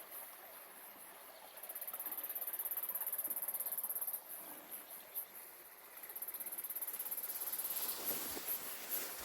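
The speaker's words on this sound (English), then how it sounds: "See the cicadas in the background." Cicadas buzz in New Zealand bush on a warm, fine day along a hiking ridge, a faint high-pitched drone that swells, drops out briefly, then returns over soft outdoor background noise.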